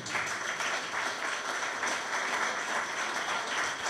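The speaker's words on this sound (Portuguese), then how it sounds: "Vamos aplaudir ao Senhor, irmãos." A Portuguese-speaking church congregation claps for the Lord during a service, a steady, even wash of many hands at moderate volume with no pause.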